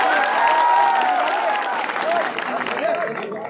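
A crowd at a protest sit-in claps and cheers, mixed with a loud voice that rises above the noise and ragged applause.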